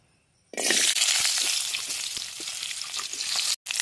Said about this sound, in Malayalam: വെളിച്ചെണ്ണ ചൂടാകുമ്പോൾ നമുക്ക് അതിലേക്ക് മുരിങ്ങക്കായ ഇട്ട് കൊടുക്കാം